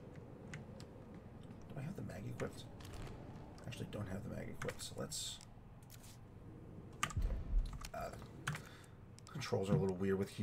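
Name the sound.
computer keyboard typing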